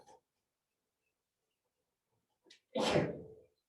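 A single loud sneeze bursts out near the end after a long quiet stretch, preceded by a brief sharp intake of breath.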